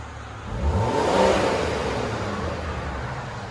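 Revving from a 2009 Volvo S80 T6 turbo with a dual exhaust and the resonator deleted: a single broad engine swell that climbs to a peak and settles into a steady raspy drone, loud and close with nobody talking.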